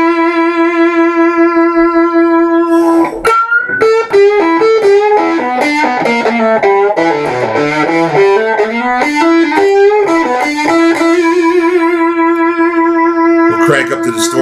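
Electric guitar through a Stiff Hippy II LM386 overdrive pedal set to minimum distortion and overdriving an amp: a long sustained note, then a run of bending, descending and rising notes, settling back onto a held, ringing tone.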